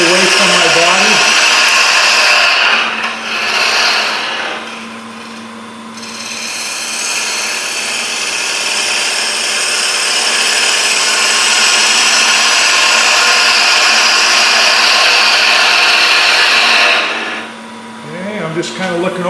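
A wood lathe spins a sphere blank while a turning tool rides the bevel. It gives a steady, close, hissing scrape that holds for long stretches, with brief dips as the cut is eased off near the start and end.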